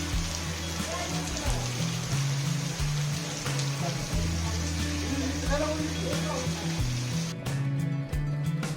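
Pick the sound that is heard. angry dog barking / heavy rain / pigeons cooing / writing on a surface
heavy rain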